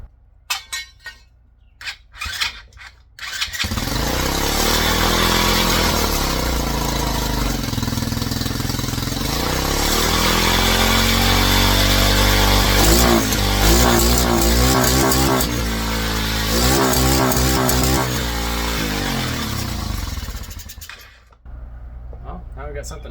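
A Tao Cheetah engine with its carburetor needle clip lowered one position runs loud and steady in gear, its note rising and falling through repeated revs with some rattling, framed by brief quieter moments at the start and end.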